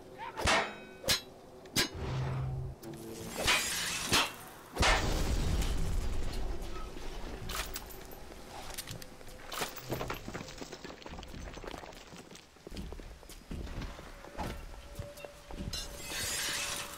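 Glass shattering in the video game BioShock, repeated sharp crashes and breaking impacts scattered across the stretch, with thuds, footsteps and game ambience between them.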